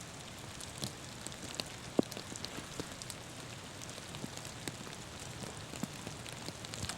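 Steady rain falls on a golf course during a tournament round, a dense even patter with scattered sharper drops, no voices.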